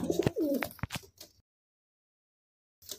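Pigeons coo in a short low burst with a few soft notes and wing or movement sounds, close by, then silence before a faint noise returns.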